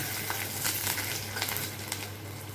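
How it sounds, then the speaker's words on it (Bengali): Three or four garlic cloves fry in hot oil with whole cumin in a Bengali kitchen, giving a steady close sizzle with crackling pops and no talking. "এখন এটার মধ্যে দিলাম হচ্ছে তিন চার কোয়া রসুন"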